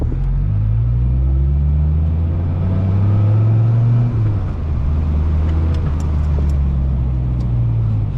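A 2004 Dodge Viper SRT10 engine drones loud and close from inside the car as it drives, a deep steady rumble with rising and falling tone as the revs change.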